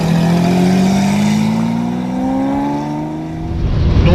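A Jaguar E-Type Series 3 with its 5.3-litre V12 revs loud and close, the engine note rising and sustaining steadily before dipping and surging again near the end.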